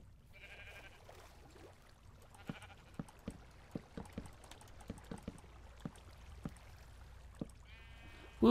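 Synthesized video game sheep bleats sound a few times, near the start and end, between a string of light clicking taps over a quiet background.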